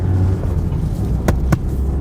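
Steady low engine rumble fills the cabin of a Mazda MX-5 Homura Edition, vibrating through panels and windshield, with a couple of brief sharp knocks near the end; no talking.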